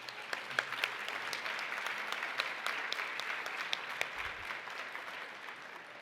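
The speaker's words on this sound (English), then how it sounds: "So let's give them a round of applause." Audience applause for the sponsors of a National Philanthropy Day event, a steady dense clapping lasting throughout at moderate distance, with a few sharper individual claps standing out.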